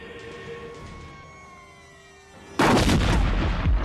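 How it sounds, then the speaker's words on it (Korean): A gunshot from the crime film L.A. Confidential, in which Ed shoots Dudley in the back, bursts in loud and sudden after a quiet stretch of sustained tones. The blast is followed by a thick, rumbling noisy tail. "하지만 완전히 달라진 에드는 등 뒤에서 더들리를 쏴버립니다"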